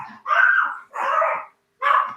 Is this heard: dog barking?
yes